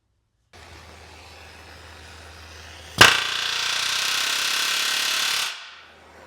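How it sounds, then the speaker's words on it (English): Hot riveting on a K10 truck frame: after a low steady hum, a sharp bang starts a loud, continuous hammering burst lasting about two and a half seconds, then cuts off. "and then I'll rivet it"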